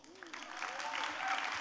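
Audience applause at the Fifteen Seconds Festival 2016 keynote, a fairly faint, steady wash of clapping from a crowd in a hall, building slightly over a short span with a voice briefly audible at the start.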